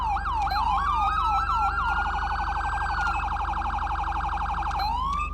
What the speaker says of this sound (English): Lets you run 2 siren tones.